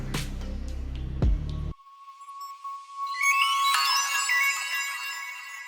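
Melodic transition sample from the Producer Grind Cadence kit: a full sound cuts to a lone sustained tone, then bright shimmering, rising synth notes swell in and ring on, alone with no voice.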